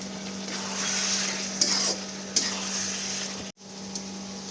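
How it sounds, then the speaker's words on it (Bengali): Ground coriander and cumin sautéing in oil in a pan, a soft continuous sizzle broken by a few sharp spoon scrapes and clinks, with a brief drop-out near the end. "এরপর এটাকে ভালো করে কষিয়ে নিতে হবে তেল না ছাড়া অবধি"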